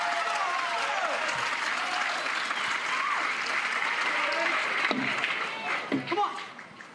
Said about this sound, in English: the crowd is into this